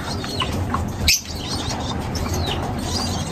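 African lovebirds chirping with high, rapid tweets and calls over a steady bed of chatter, one brief louder squawk cutting through near the middle, no voices present.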